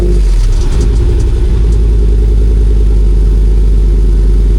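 An AEV-converted Jeep Wrangler JK with a 6.4-liter 392 V8 idles and runs loud and close, a deep steady rumble with a brief rev near the start, no talk.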